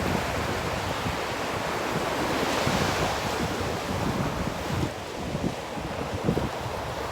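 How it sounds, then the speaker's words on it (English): Ocean waves rolling onto a beach under gusting wind, a continuous broad roar with swells of surf and rumbling wind buffets against the microphone, no voices. "how's the sound with the wind picking up? Is it louder, or can you still hear the waves?"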